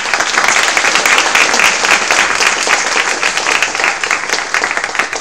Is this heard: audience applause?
yes